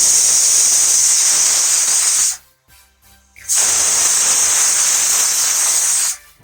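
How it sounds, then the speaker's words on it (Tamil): A pressure cooker whistle, a loud, steady hissing of steam escaping under pressure, cutting off briefly for about a second before resuming just as strongly. "குக்கரை மூடி ஒரு 6லேருந்து 7 விசில் வச்சு"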